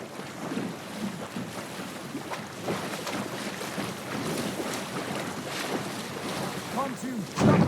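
A boat sails down a river in Assassin's Creed Valhalla, with steady wind, lapping water and creaking hull sounds running continuously at moderate level, ending in a brief louder bump.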